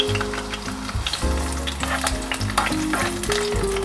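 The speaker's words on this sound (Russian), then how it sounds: "Накалили сковородку, добавляем болгарский перец." Pieces of bell pepper sizzle and crackle in a preheated frying pan, with occasional scraping and stirring sounds.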